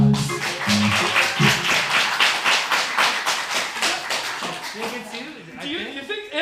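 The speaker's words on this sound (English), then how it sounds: "Round of applause if you would like Ron to be the one to do the 3 things" A small crowd claps in rhythmic, fairly loud applause that tapers off as voices begin to talk over it.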